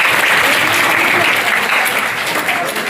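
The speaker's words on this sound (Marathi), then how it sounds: "टाळ्या वाजवण्यासाठी." An audience at an educational talk claps in a loud, sustained burst of applause that holds steady throughout before easing slightly at the end.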